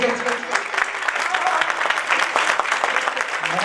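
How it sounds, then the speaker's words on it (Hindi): A crowd at a devotional bhajan gathering claps steadily and energetically, a dense wash of many hands at moderate distance continuing evenly throughout. "ताली बजा रहे हैं।"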